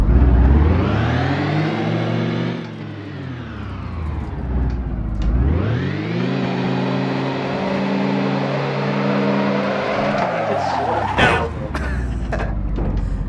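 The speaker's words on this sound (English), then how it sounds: "See if it'll do donuts." Van doing donuts in an empty car park, the engine revving and whining up and down in long sweeping waves, loud and close, with a brief scrape of tires near the end.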